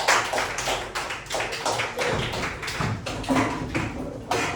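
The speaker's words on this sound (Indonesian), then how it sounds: "beri tepuk tangan dulu teman-teman" Classmates in a classroom clap for a group that has just presented, an uneven scattering of nearby hand claps and taps coming in loose bursts rather than a full roar.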